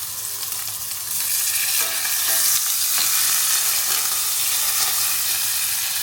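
Butter sizzles in an oiled pan before a steak goes in, a steady loud frying hiss that swells after the first second and holds with faint crackles throughout.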